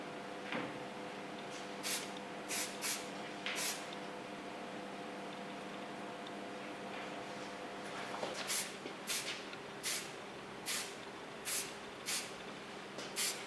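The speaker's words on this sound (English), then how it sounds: "With the hairspray of Lanza, gonna finish it." Lanza hairspray from the healing line misted over freshly styled short curly hair in a salon, a run of short hissing spray bursts repeated in two groups, fairly close over a steady low background hum.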